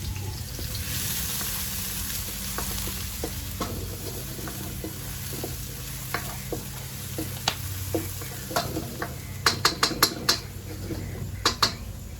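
Fried rice with scallion sizzles on a wood grill while a metal utensil scrapes and taps against the pan, with sharp clanks clustering toward the end over a steady crackling hiss.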